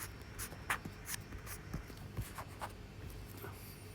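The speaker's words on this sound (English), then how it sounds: "Therefore, I can write over here" A pen moves over paper while thermodynamics properties are worked out by hand: continuous faint scratching with short stroke bursts and light taps, close and steady, with no talking.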